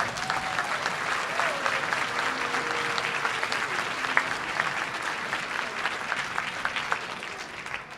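Sustained audience applause at a high school all-city band concert, dense steady clapping filling the hall for the full stretch, with a faint voice briefly underneath.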